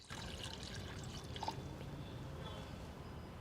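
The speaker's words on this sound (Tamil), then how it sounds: "ஒரு 150 ml தண்ணீர் நம்ம சேர்த்துக்கலாம்." About 150 ml of water poured into a pot to make a headache-relief tea, a steady soft trickling stream with a faint drip in the middle, fairly quiet.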